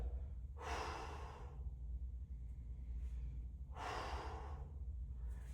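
Two slow, deep breaths pushed out close to the microphone during a hip-flexor stretching exercise, each a soft, airy rush separated by a few seconds of quiet.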